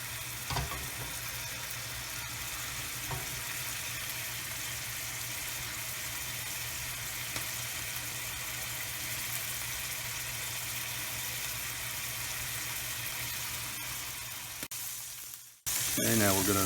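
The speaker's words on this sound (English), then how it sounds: "You hear that very satisfying sizzle coming up." Steady, close sizzling of chicken thighs frying in a hot pan continues for a long stretch, then cuts off abruptly before resuming at the end.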